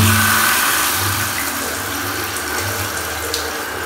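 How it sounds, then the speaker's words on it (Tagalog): Water gushes strongly from a tap fed by a Stiebel Eltron electric water heater, making a loud, continuous rushing flow with a low mechanical hum underneath and no talking. "Yan, malakas yung tubig natin."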